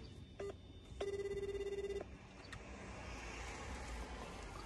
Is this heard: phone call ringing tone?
yes